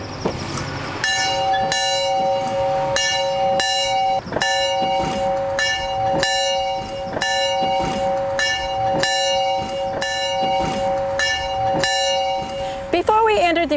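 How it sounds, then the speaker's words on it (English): A museum bell from New York rings repeatedly in a steady rhythm, about a dozen loud metallic strikes with long ringing overtones, followed by a brief trailing rattle. "I think it's time we ring our bell."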